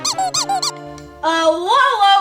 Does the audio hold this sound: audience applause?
no